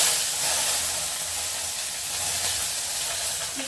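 Chillies tipped into very hot oil in a pan with cumin, giving a loud, continuous close sizzle and hiss that stays steady throughout.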